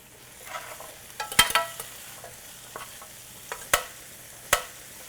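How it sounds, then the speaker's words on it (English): Vegetables stirred in a pan for a plant-part pasta, giving sparse scraping and clacking strokes with a few sharper knocks over a faint, quiet sizzle. "And now we're going to make sure we stir it again."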